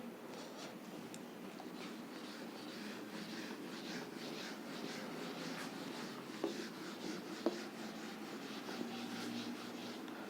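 Pen scratching steadily across paper while handwriting notes in a quiet room, a continuous soft scraping texture with a few faint taps.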